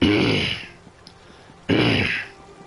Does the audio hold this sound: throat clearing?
yes